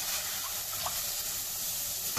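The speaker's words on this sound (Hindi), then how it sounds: "तो तीन कटोरी पानी डालेंगे इसमें।" Water is poured into a pot of rice for jeera rice, a steady close rushing pour that runs without pause for a couple of seconds.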